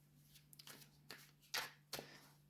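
Tarot cards being shuffled by hand in a quiet room, a few soft riffling bursts and one or two sharper card snaps, close and faint over a steady low hum.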